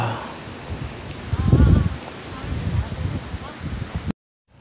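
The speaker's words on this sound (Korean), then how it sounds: "바람이 장난 아니네" Strong, cold wind gusts across a microphone at a camellia grove in Jeju, a low roaring buffet that swells and fades and then cuts off abruptly; no one speaks.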